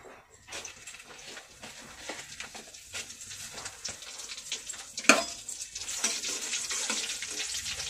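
Black cumin seeds and dry red chillies fry in oil over a lowered gas flame, giving a soft, steady crackle with scattered pops and one sharp spit near the middle that leaves the sizzle a little louder.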